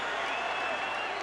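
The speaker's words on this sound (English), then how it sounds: "Vargas has the crowd on its feet" A boxing arena crowd applauding and cheering loudly during a heavyweight-style fight between Mayorga and Vargas, a dense, steady roar of clapping.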